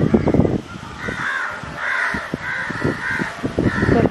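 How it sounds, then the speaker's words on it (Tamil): A crow near a rooftop terrace caws repeatedly, giving four or five harsh, fairly loud calls at a steady pace over a rumbling outdoor background. "காக்கா பறக்கிறது"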